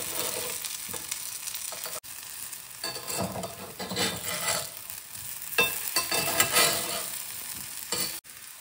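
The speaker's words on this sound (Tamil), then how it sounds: "இதை வந்து எப்படி ஒன்றொன்னா பெரட்டி போடலாம்" Raw plantain slices fry in hot oil in a pan and get flipped one by one, giving a steady close sizzle broken by scraping and turning noises. Nobody speaks.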